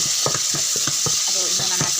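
Tilapia fries in cooking oil with a constant hiss, while irregular light clicks and scrapes of a utensil rattle close by.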